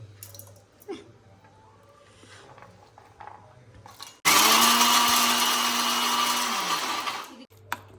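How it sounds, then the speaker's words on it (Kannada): A mixer grinder whirs loudly for about three seconds, grinding cashews, cardamom, green chillies and pepper, after quieter kitchen handling sounds and before stopping abruptly. "ಮಿಕ್ಸಿ"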